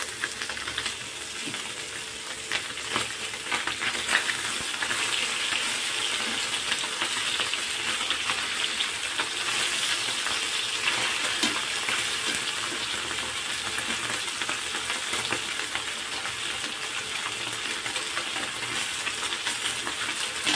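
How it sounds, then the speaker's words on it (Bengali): Small fish frying in hot oil in a home kitchen, a loud, steady hiss and crackle of sizzling that runs unbroken throughout, with occasional stirring. "এই মাছগুলো আমি আবারও ভেজে নেব।"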